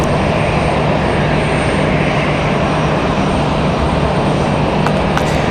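Jet engines of a United Boeing 737-700 airliner roar loud and steady at an airport, a continuous broadband rumble with no talk.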